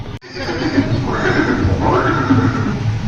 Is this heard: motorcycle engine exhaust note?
no